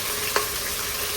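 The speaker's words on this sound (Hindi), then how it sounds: "लहसुन और अदरक बारीक बारीक कटा हुआ, थोड़ा सा इनको फ्राई कर लें" Finely chopped garlic and ginger fry in an electric cooking pot, giving a steady soft sizzle throughout with one brief scrape or clink near the start.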